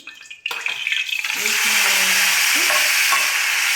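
Tomato pieces dropped into hot oil in a pan start a loud, steady sizzle that builds after a sharp onset and holds bright and continuous, close by.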